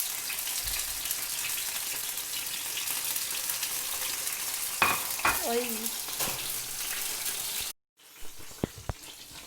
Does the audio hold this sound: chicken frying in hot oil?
yes